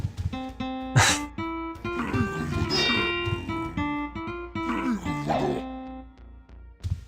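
A puppy barks repeatedly in the background, a string of sharp yaps and harmonic whining barks coming in irregular bursts over several seconds, moderately loud and somewhat distant indoors.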